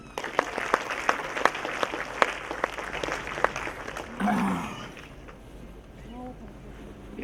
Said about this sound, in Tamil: மிகச்சிறந்த ஒரு நிகழ்வு, எல்லாரும் அழகாக கைத்தட்டலாம்.